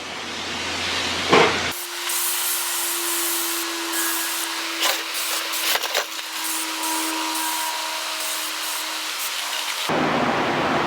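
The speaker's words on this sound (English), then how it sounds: "we're going to spray everything down, including inside the water pan" Steady close hiss of a spray bottle misting the inside surfaces, racks and water pan of a Masterbuilt electric smoker, broken by short clicks and knocks, with no talking.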